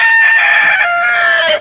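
A chicken in a shed coop beside its egg hutch gives one drawn-out, rising crow-like call, loud and close, lasting under two seconds.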